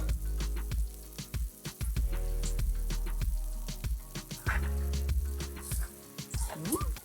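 Homemade cordon bleu frying in a pan, a steady close sizzle and crackle with popping spatters throughout, fairly loud, with no speech.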